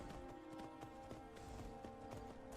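A stolen horse in the video game Skyrim clip-clops at a steady riding pace, rhythmic hoofbeats fairly faint under ambient background sound, no voices.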